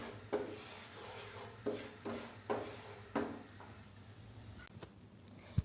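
Flour being stirred and roasted in melted butter in a pan, a quiet series of about six scraping, tapping strokes of a spoon against the pan, evenly spaced, with a faint steady hum behind.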